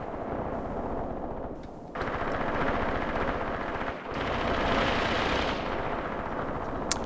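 Sustained bursts of machine gun fire in the Graviteam Tactics: Mius Front war game rattle loudly and continuously, punctuated by short pauses and heavy impacts, with a dense battle roar underneath.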